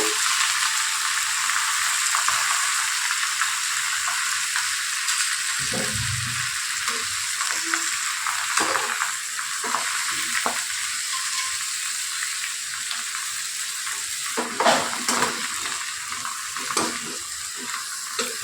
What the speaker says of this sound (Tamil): எண்ணெயோட பாதி பாதி கீரையாக போட்டு வதக்குங்க